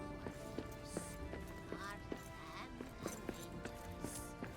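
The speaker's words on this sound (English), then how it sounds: "Sound like the goat got whacked." A goat bleats in Lord of the Rings: Return to Moria amid a clattering game soundscape with hoof-like clip-clop, short repeated calls over steady rhythmic ambience, with speech faintly present.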